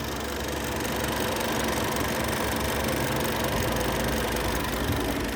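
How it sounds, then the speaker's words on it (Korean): Close, steady idle of a fault-free Rover Mini engine, an even continuous hum with a faint mechanical ticking, no voices. "이상 없는 차 엔진 소리 들려드리겠습니다."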